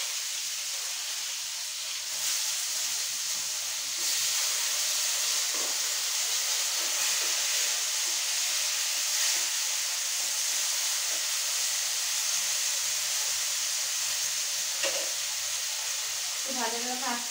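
Bitter gourd fry spitting in a hot pan for a bitter gourd dal, a steady broadband sizzle throughout with occasional brief pops and crackles, close and fairly even in loudness.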